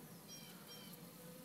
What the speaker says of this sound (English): And now I'm even seeing a bee sitting there fanning.